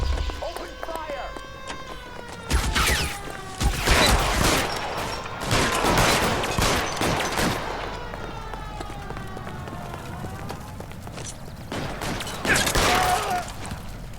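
Gunfire erupts in a video game shootout set in 1940s-style L.A. Noire, with bursts of loud shots clustered around the middle and again near the end over a running score, and voices talking in between.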